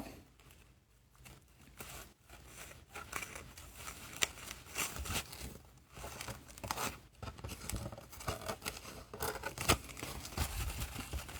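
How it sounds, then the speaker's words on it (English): Thin craft foam is cut up close with scissors in soft, irregular snips and crinkly rustles that run on unevenly and stay fairly faint. "This foam is so thin and it cuts like butter."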